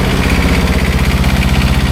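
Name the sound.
truck engine running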